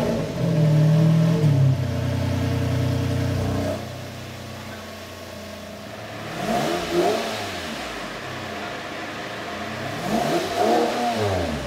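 A 2010 Lamborghini Murcielago engine revs loudly up close, starting with a high sustained roar that drops away, then repeated rising and falling throttle blips, with no talk.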